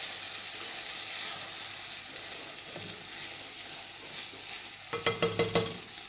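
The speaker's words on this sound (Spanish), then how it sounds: "Revolvemos." Chicken and rice risotto stirred in a pan, a steady low sizzle and scraping spoon strokes that turn into a quick run of five or six distinct stirring scrapes near the end, heard alone without voices.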